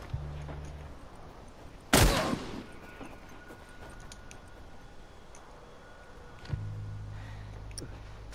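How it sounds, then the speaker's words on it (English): Shotgun fire in The Last of Us, a single sharp close blast standing out over quiet ambient game sound, followed later by a softer thump and faint clicks. "Shotgun."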